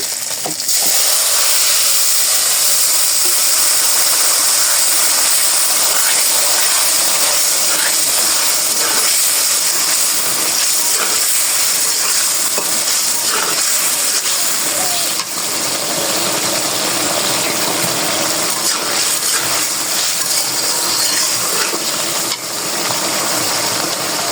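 Mixture poured into hot oil for Kashmiri paneer, a loud continuous sizzle and hiss with scraping stirring throughout, close and steady.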